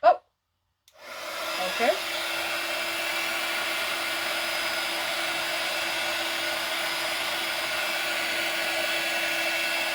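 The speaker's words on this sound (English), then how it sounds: "So I will now dry it." Hair dryer drying a clay coffee mug, a steady whirring blow with a constant motor whine that starts after a brief word and runs evenly and close for several seconds.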